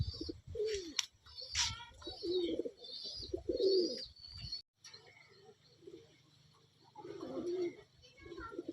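Racing pigeons cooing in a loft during a race, several soft low coos close by alongside brief flutters and a clatter, with people talking faintly nearby.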